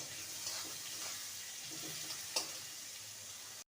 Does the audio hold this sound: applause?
no